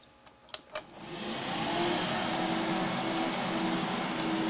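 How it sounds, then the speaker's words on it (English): After a couple of clicks, a steady broadband whoosh swells up and holds, the loud continuous roar of computer fans in an acrylic gaming PC spinning close by. "It's a little loud right now until I um get a new CPU fan"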